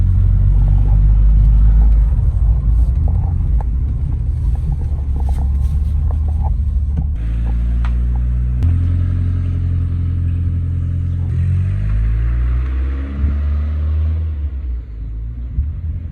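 A 4x4 Ford Cosworth Capri drives along the road with a steady, loud engine rumble, a low drone that shifts through gear changes and revs, with no voices.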